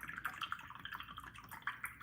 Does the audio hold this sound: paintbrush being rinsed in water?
yes